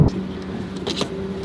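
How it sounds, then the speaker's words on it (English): A Volkswagen Golf R32 with its VR6 engine on the Nürburgring track, a steady low engine rumble heard from inside the car with wind buffeting and a few brief higher bursts. "If we have the nice rumble of the VR6 engine, so off we go."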